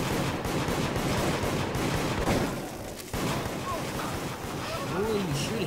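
Gunfire in the multiplayer horror game Deceit, with several sharp shots cutting through a dense, windy game soundscape, one heavier blast near the middle, and a voice talking over parts of it.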